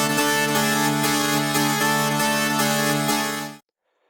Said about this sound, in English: And second, you have this punchy synth keys sound,